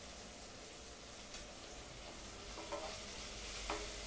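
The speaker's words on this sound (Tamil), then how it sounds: "பெரிய வெங்காயம் போட்டு நல்லா தாளிச்சுக்கிறேன்" Large onion tempering in hot oil with chilli and curry leaves for Chettinad chicken gravy, a steady soft sizzle with a couple of light utensil scrapes near the end, no talking.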